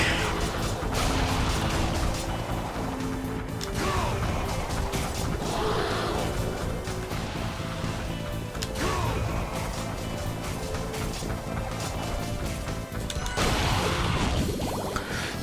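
Crow attacks in the video game Castlevania: Curse of Darkness, spammed over and over as a dense, loud stream of crashing, whooshing combat effects under constant game music, with no pauses for the whole stretch.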